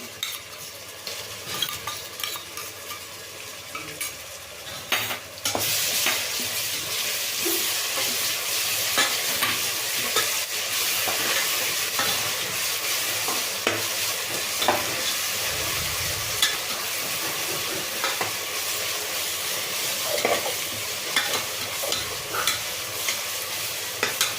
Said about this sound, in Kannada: ನಾನು ಶುಂಠಿ ಬೆಳ್ಳುಳ್ಳಿ ಮತ್ತು ಹಸಿಮೆಣಸಿನ್ಕಾಯಿ ಪೇಸ್ಟ್ ಹಾಕ್ಕೊಳ್ತಾ ಇದ್ದೀನಿ